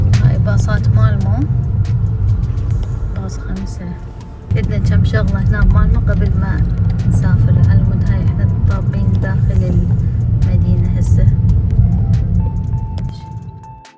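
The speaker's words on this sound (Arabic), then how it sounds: "هاي باصات مالمو، باص 5" City buses in Malmö, a low steady engine rumble as a bus idles and moves along, briefly easing before resuming, with people talking over the drone.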